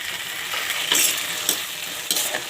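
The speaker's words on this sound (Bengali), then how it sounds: "এবার ভালো করে এটাকে নেড়ে চেড়ে একদম শুকনো শুকনো করতে হবে।" A utensil steadily stirs loitta fish (Bombay duck) in a frying pan to dry it out, with continuous close sizzling and frying broken by periodic scraping strokes and no talk.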